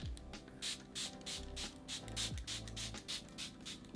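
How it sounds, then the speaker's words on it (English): A makeup prep mist is sprayed onto the face in a series of short, close pumping hisses, about ten quick bursts in a steady rhythm, with no talking. "So I'm going to just be spraying this all over my face before I go in with my foundation."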